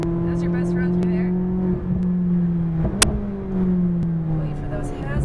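McLaren 570S sports car on a closed race track, steady engine drone with a brief sharp transient mid-way, heard from inside over continuous cabin noise, with an instructor's voice talking throughout.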